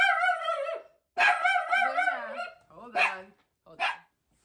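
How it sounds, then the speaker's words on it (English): A dog barks at a neighbouring dog in a series of loud, close yips and barks: two long bursts, then two shorter ones with quiet gaps between them. "While she was off barking at the neighbor's dog"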